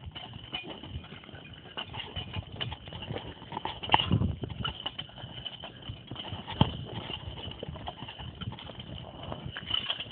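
Horses working in a logging job, hooves clip-clopping steadily and close by, with a couple of louder knocks over a constant outdoor background.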